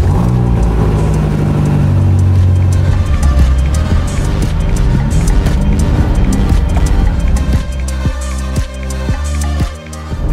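A BMW M5 CS engine runs loud and steady as the drive gets under way, its low harmonic drone shifting in pitch as revs rise and fall, with a few sharp throttle blips near the end.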